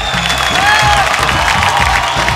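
A television studio audience at a Bhojpuri singing competition bursts into loud, sustained applause with cheering and whistles over the clapping.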